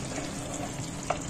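Potol curry with ghee sizzles steadily in a pan, a close continuous frying hiss with a faint scrape of stirring and a small clink near the end.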